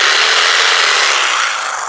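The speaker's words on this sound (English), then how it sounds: "Things like an electric jigsaw," An electric jigsaw powered from an Aferiy P210 power bank, running as a loud, steady, high-pitched buzzing and rasping cut through material, sustained without pause and slightly easing toward the end.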